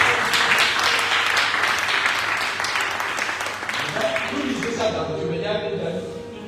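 A church congregation applauds and cheers loudly in a dense, sustained wash of clapping mixed with voices, easing slightly toward the end as a tone rises over it.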